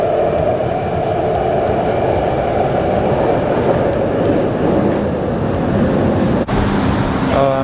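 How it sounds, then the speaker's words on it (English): A Taipei subway train rumbles loudly into a station, a dense roar with metallic squeals, ending in high ringing tones as it slows. "Let's see, my train is coming."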